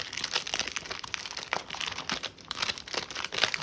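Packs from a 1990 Leaf baseball card box being ripped open close up: steady crinkling and tearing of wrappers in quick, overlapping bursts, fairly loud and alone without talk.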